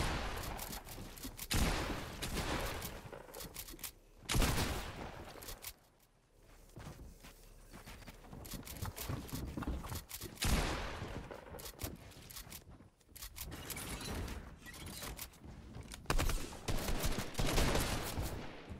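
Fortnite gunfire in bursts and scattered shots, with footsteps and movement noises between them, fairly loud and busy across the whole stretch.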